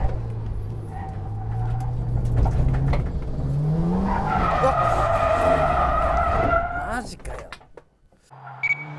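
Tires of a Toyota 86 with an automatic transmission screech in a long, loud drifting skid over a revving engine on a mountain pass, the squeal rising and wavering before cutting off near the end.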